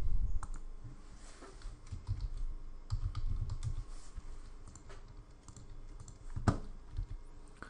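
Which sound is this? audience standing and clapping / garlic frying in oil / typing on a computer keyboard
typing on a computer keyboard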